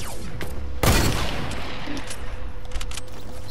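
A sniper rifle shot in the Fortnite video game rings out once, loud and sharp with a brief booming tail, followed by quieter game ambience and faint clicks.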